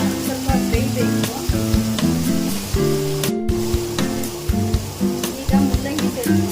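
Tomatoes sizzle and fry in a pan while cooking radish sambar, with a steady dense crackle and occasional stirring throughout, loud and close, with faint voice in the background.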